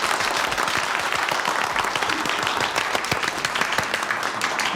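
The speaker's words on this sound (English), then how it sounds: "Clapping too." Crowd clapping for a speaker being introduced, a close, uneven patter of individual hand claps with sharp distinct slaps, steady for several seconds without speech.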